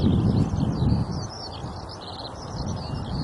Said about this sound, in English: There's a skylark.